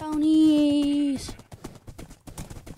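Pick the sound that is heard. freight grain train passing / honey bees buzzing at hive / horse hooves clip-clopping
horse hooves clip-clopping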